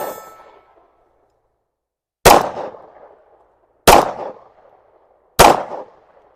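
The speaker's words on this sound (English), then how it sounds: "So we shot 1 at the steel on the right, 1 at the steel on the left, and then these 3 at this target." Three loud, evenly spaced gunshots ring out outdoors, each a sharp crack followed by a short metallic ringing decay, as rounds are fired at steel targets and a paper target.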